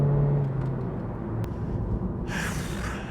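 Honda CR-Z engine droning steadily through a corner, a continuous low rumble with tire and road noise, heard from inside the car with a hiss of wind rising near the end.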